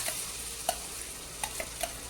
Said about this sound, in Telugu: తాలింపు యాడ్ చేసుకున్న తర్వాత బాగా ఒక రెండు నిమిషాలు బాగా మిక్స్ చేసుకోవాలి